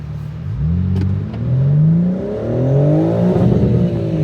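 A 2026 BMW M4 Competition xDrive convertible engine revs up repeatedly, pitch climbing and falling in several surges as the car accelerates, loud and close with no talking.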